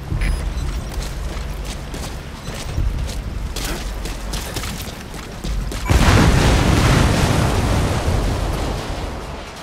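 A separator tank blows up in Metal Gear Solid V: The Phantom Pain, a sudden loud blast followed by a sustained roaring rumble of fire and debris, after several seconds of quieter game ambience with low thuds.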